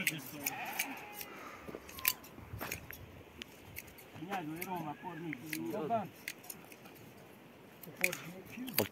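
Lambs bleat several times in a wavering, quavering voice during lamb shearing. The bleats sit close by among clicking scissors and handling noise, with people talking nearby.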